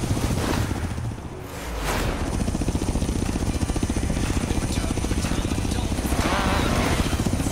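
A helicopter in the racing game Forza Horizon 2 gives a steady, loud rotor thrum with dense low pulsing, briefly dipping then swelling and holding strong throughout, with a whooshing pass near the start.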